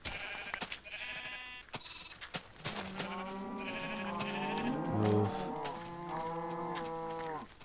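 Sheep in the video game Minecraft bleat repeatedly in overlapping, wavering cries at a steady loudness, and someone says a single word early on.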